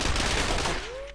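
Gunfire in the video game The Ship, a loud, dense burst of rapid shots up close that cuts off abruptly, leaving a fading electronic tone.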